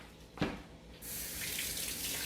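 Potatoes rinsed under a running kitchen tap: a soft knock, then a steady, quiet gush of water that starts partway through and keeps flowing to the end.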